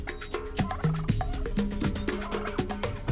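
Several turkey-like gobbling calls attributed to brush turkeys, rapid rhythmic clucks and gobbles in close succession, fairly near and clear over a busy outdoor background, with no talking.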